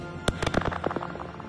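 Diwali firecrackers bursting in a quick, uneven run of sharp, loud cracks and pops, close by, with no voices.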